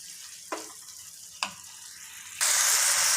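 Broad beans cook with chilli powder in a pan under a faint sizzle, punctuated by two spatula taps, then a loud burst of hissing frying near the end.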